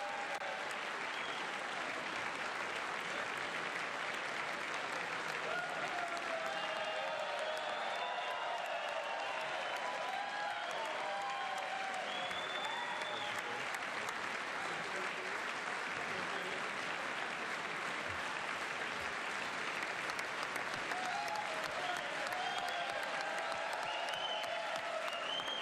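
Sustained applause fills a chamber of Congress during a Trump speech, dense clapping from a large crowd holding steady throughout, heard at a moderate distance without talk over it.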